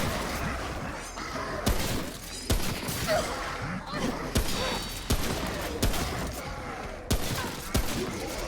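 Repeated bursts of gunfire in Remnant: From the Ashes, sharp cracks every second or so with shattering impacts and thuds, loud and close amid dense combat noise, with a voice talking between shots.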